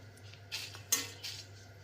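Metal spoon scraping and clinking in a pan while dried red chillies roast for homemade idli podi, a few soft scrapes and one sharper clink over a low steady hum, fairly quiet.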